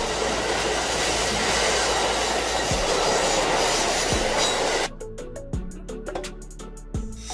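A diesel train rolls along the tracks with a dense steady rumble, then rhythmic clickety-clack of wheels over rail joints, close and continuous.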